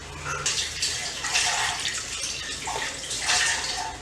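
Water pouring into ragi flour in a bowl while mixing instant ragi rava dosa batter, a steady close splashing pour that swells and eases in several surges, with no talk.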